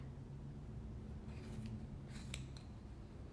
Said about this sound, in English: take your scissors and you're gonna slide them in between the cardboard